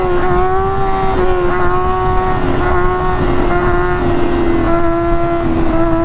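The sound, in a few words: motorcycle engine running while chasing a wheelie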